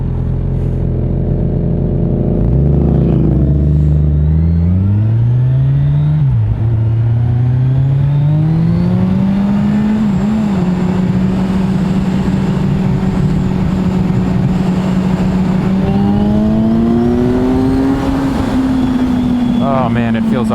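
A motorcycle engine drones steadily on an early-season street ride, its pitch rising and falling as the bike accelerates and shifts, loud and close throughout with wind noise.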